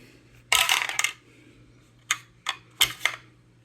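Dice for a board game clatter across a hard surface in a sharp burst, then several quick smaller rattles follow as they settle, close and clear with no talk.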